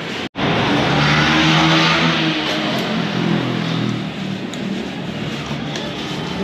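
A Kawasaki Ninja 400 motorcycle with an SC Project exhaust revs loudly close by, a rough sustained roar that peaks early and then eases to a lower, steady idle-like drone.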